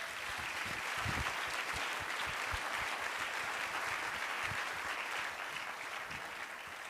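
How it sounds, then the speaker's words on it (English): Audience applause at a 2026 convocation, a sustained even roar of many hands clapping, steady and unbroken for several seconds at a moderate distance. "So give yourself a round of applause"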